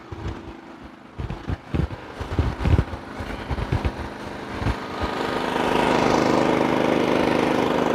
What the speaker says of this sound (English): Okay, generator's real quiet.